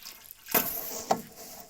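Water from a tap at a construction site, a short, faint splash that starts abruptly, followed by a second brief gush, heard alone and close.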